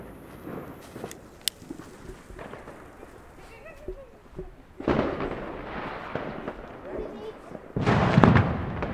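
A Tomaszek Roman candle firework rated at 100 shots fires outdoors near trees, giving scattered pops and crackles that build into two loud bursts of dense crackling toward the end, with people talking over it.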